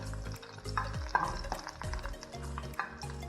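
Urad dal and red chilies dry-roasting in a pan for a Tamil chutney, stirred with steady scraping and light crackling, with occasional spoon clinks against the pan close by.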